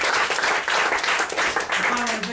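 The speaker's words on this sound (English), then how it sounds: "get a round of applause" Audience applause for a stage volunteer at a tribute show, steady and fairly dense across the whole stretch, with a voice cutting in faintly near the end.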